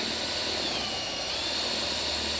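A power drill boring holes into a wooden beehive box runs as a loud, steady, continuous whine from start to finish, with no talking over it.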